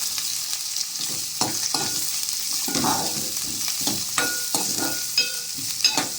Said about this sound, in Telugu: ముక్కలని మరియు తొక్కను ఒక ఐదు నిమిషాలు వేగించుకోవాలి